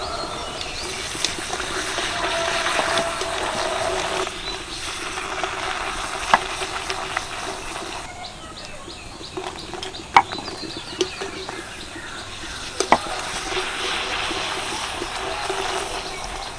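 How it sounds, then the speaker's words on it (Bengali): Fuchka dough balls deep frying in hot oil: a continuous, even sizzling hiss with occasional faint pops and clicks, heard alone at moderate loudness. "আমি একটা একটা ছাড়ছি আর এইভাবে ভাজতে থাকছি"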